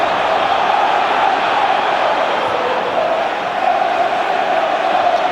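Steady roar of a large football crowd at an Everton v Middlesbrough FA Cup sixth-round match in 2009, a dense, continuous wash of voices that holds loud and even throughout.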